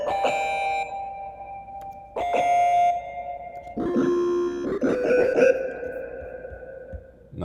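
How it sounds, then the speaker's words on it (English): Guitar harmonics synth patch from the Logic Pro DLS Music Device, four bell-like chiming notes struck one after another, each ringing out with a bright sustained tone, clear and close with no talking. "How about an acoustic or a guitar harmonics?"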